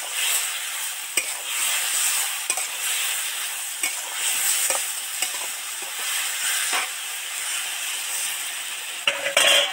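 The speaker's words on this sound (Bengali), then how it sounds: "নেড়ে চেড়ে মশলাগুলো আলু আর পেঁপের সাথে মিশিয়ে দেবো।" Spices stirred and fried with potato and papaya in a pan with a splash of water, a loud continuous sizzle broken by repeated scraping strokes of the spoon, close up with no talking.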